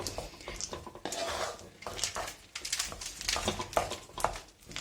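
Peanuts being stirred through melted sugar in a pan off the heat for peanut chikki, giving irregular close scraping, clattering and knocking of a utensil against the metal pan.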